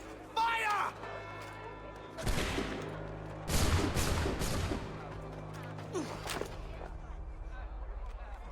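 A musket volley in Assassin's Creed III Remastered erupts as a loud, ragged burst of overlapping shots. It follows a shouted exchange and trails into echoing reports and crackle, with voices speaking around the gunfire.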